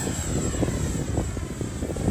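An H-King Viper64 electric sport RC jet with fixed landing gear flies past, its ducted fan giving a steady, rushing whine with slight fluctuations as it passes at moderate distance.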